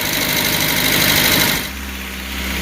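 A Suzuki J20A engine installed in a 2003 Chevy Tracker idles as it warms up, a steady close mechanical hum that drops to a lower, quieter rumble partway through, with no talking.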